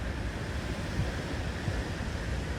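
Ocean waves from an art installation on the sea, heard as a steady, fairly loud broadband surf wash with low rumbling swells throughout and no voices.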